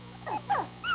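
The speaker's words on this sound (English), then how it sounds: "Misty takes good care of her puppies, doesn't she, Mommy" A mother dog with her puppies in a Frontline flea-treatment commercial, giving a few short whimpering yips and whines in close succession, fairly close and clear with no talk over them.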